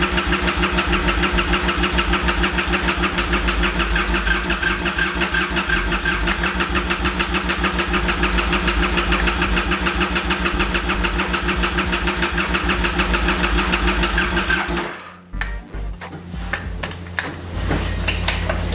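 The engine of a Triumph Scrambler motorcycle that has sat with old fuel is cranked over and over, a steady fast churning that runs without catching, then cuts off into a few clunks near the end.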